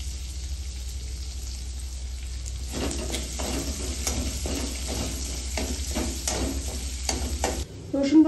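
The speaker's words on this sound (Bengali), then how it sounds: "সেম তেলের মধ্যে আমি দিয়ে দিচ্ছি রসুন কুচি।" Chopped garlic fries in oil left from frying chicken, a constant close sizzle punctuated by repeated scraping and stirring strokes in the pan.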